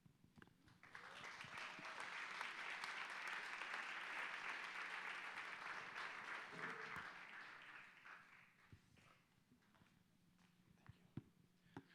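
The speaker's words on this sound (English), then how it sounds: "Let's give her another warm round of applause, please." Warm applause from an audience after a keynote at a smart cities innovation day, a dense sustained wash of clapping lasting several seconds before fading to scattered claps and faint room noise.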